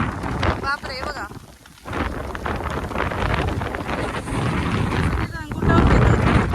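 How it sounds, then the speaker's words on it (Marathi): Heavy rain pours down outdoors with a dense, continuous roar that swells louder near the end, buffeted by wind, while people talk over it. "पाऊस येता जोरदार."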